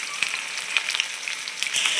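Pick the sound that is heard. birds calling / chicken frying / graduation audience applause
chicken frying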